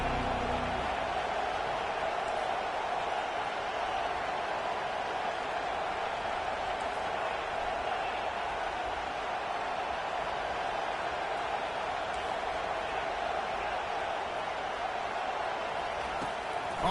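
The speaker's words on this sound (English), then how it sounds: "this crowd trying to help keep them there" Football stadium crowd roars steadily as the home team is pinned deep in its own end, a constant broad wash of distant noise with no breaks, heard alone without talk.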